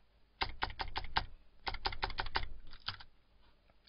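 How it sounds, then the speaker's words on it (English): Arrow keys on a computer keyboard are tapped in quick bursts of three or four clicks, close and fairly quiet, with short pauses between the bursts and no voices. "I just move the key from my keyboard, the arrow key, and that makes 1 step every time."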